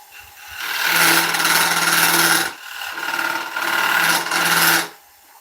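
A skew chisel cuts an oak fruit bowl spinning on a wood lathe, making a loud, rasping scrape in two long passes separated by a short pause, close by and without any talk.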